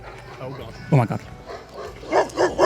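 A big dog barks in a few deep, loud bursts close by, mixed with startled exclaiming voices.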